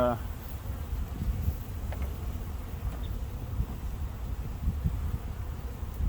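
Honey bees buzz steadily around a hive box being moved to a new home, a dense, continuous outdoor drone close by, with occasional faint handling sounds.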